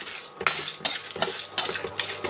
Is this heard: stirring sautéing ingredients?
yes